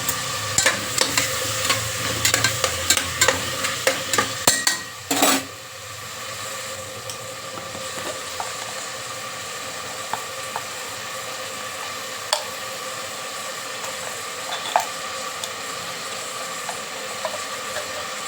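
Tomatoes sizzle in a pan for vegetable pulao while a spoon scrapes and clatters briskly, with a sharp metallic knock partway through, followed by a steady, softer frying hiss without speech.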